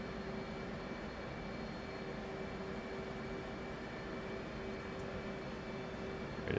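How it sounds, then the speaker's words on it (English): An F/A-18C's right jet engine spools up in the DCS flight simulator with a steady turbine whine and a constant low rumble, even and moderately loud, with a small bump near the end. "Start cranking that right engine."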